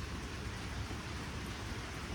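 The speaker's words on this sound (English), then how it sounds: "It's a little misty rain now." Light misty rain falling outdoors makes a steady, soft, even hiss that does not change over the short stretch.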